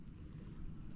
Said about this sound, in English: a little wind again.